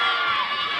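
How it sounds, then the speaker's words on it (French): A pageant audience at a Miss Surgères contest roars with cheering and clapping, a steady, loud crowd sound lasting under a second. "Je vois tous les applaudissements, mesdames et messieurs, plus fort que ça"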